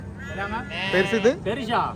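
A two-month-old lamb at a goat market bleats several times close by, in short wavering cries over a murmur of people talking in the background.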